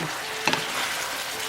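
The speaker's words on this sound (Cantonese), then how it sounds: "就快手將呢個象拔蚌片咧全部落翻晒去，咁就將佢兜一兜" Geoduck slices tossed in a hot wok with sauce, with the heat just switched off: a steady, fairly loud sizzling hiss throughout, broken by a couple of quick metallic scraping stirs near the middle.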